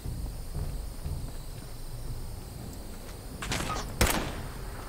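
A single sharp gunshot in Fallout 76 cracks near the end over low, steady game ambience, preceded by a brief clatter.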